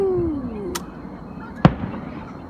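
Fourth of July fireworks sound from a distance: a whistling rise, then one sharp crack and one louder boom about a second apart over a low background rumble.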